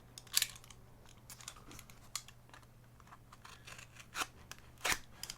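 A blade cuts open a cardboard mailer box, giving quiet, close scratchy slicing strokes in irregular bursts with a few sharper cuts and rustles near the end.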